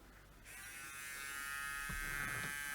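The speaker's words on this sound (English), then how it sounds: "I wonder if I can rough that up a little bit with my little grinding pen" A small handheld rotary grinding pen whirs up to a steady high-pitched buzz while roughing up a patch of hardened super glue on a Panasonic Blu-ray player and HDD recorder, with brief lower grinding contact near the end.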